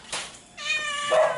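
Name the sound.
cat meowing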